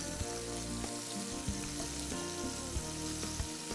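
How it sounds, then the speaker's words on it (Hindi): Chicken wings fry in a pan of oil, giving a constant, dense crackling sizzle that holds steady throughout, close and alone, with a few brief pops. "सो तो मैं इनको और थोड़ा सा फ्राई करूँगा"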